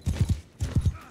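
A galloping horse in the video game Mount and Blade Bannerlord, heard as two quick bursts of muffled, thudding hoofbeats in a rolling three-beat rhythm, near and moderately loud.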